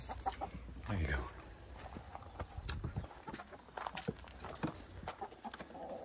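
Backyard chickens cluck and scratch close by, with soft clucks, scattered taps and rustling under faint, muffled human voice.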